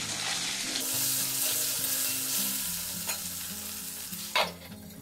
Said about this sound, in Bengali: আলুতেও অল্প নুন দেব, অল্প একটু হলুদ দেব, এটা ভেজে নেব।